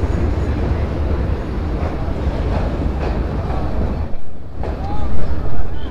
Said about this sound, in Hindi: हमारी ट्रेन पहुँच रही है अभी बेलराया रेलवे स्टेशन